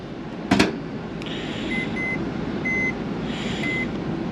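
A microwave oven inside a 2007 Winnebago Sightseer 35J Class A motorhome: a sharp click, then a steady hum with a series of short electronic beeps in repeated pairs, close and clear, no talking.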